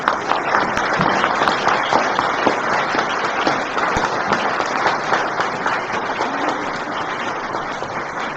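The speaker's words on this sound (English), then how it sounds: "Please give them a round of applause." Audience applause at an annual public meeting, a steady dense wash of clapping that stays loud and even for the whole stretch, with no voices over it.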